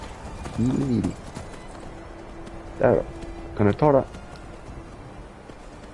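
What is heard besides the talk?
horse hooves in Skyrim video game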